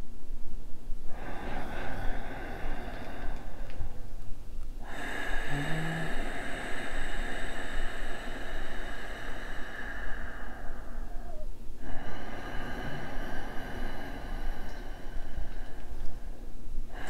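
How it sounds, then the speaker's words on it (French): Slow Ujjayi yoga breathing, deep audible ocean-like breaths through a constricted throat, with a long exhalation and a second breath drawn in near the microphone, with no talk. "Alors voilà ce qu'est la respiration Ujjayi."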